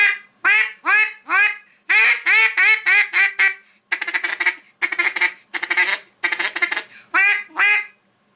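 A handmade duck call finished with beeswax is blown in repeated bursts of raspy quacks, several sharp notes per burst, close and loud with short pauses between series.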